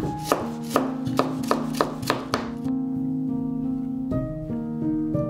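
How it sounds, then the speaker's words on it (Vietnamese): A knife chops finely grated carrot shreds on a cutting board with about seven crisp, evenly spaced strikes up close, followed by a lull where only soft, steady tonal background remains. "Cà rốt thì các bạn bào sợi, sau đó cắt nhỏ ra như thế này ha."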